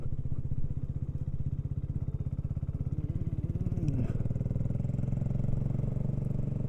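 A BSA Goldstar 650 motorcycle rides around the grounds of a stately home, its engine a steady close thumping drone with a slight rise and fall in pitch and no talk over it.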